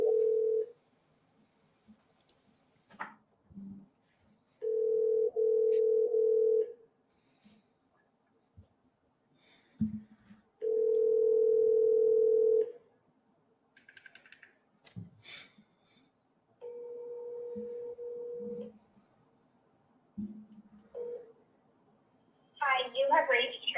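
A telephone call is placed: steady ringing tones sound in long bursts at regular intervals of about six seconds, with quiet breaths and small noises in the gaps between them.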